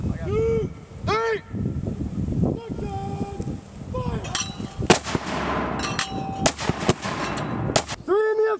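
Artillery pieces of a gun section fire during a U.S.-Japan military exercise, with a few loud sharp booms spaced through the clip and shouted crew commands and radio-like voices around them.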